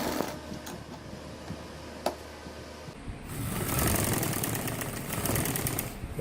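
Sewing machine running steadily while stitching the placket of a gents kameez front, a close mechanical whir that starts softer and grows louder and fuller partway through.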